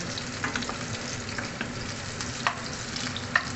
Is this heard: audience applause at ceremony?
no